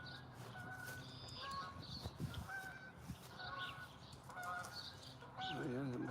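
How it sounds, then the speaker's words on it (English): Geese honking in repeated nasal calls, several birds overlapping at moderate distance, growing busier and louder toward the end, with faint background voices. "Here are the geese."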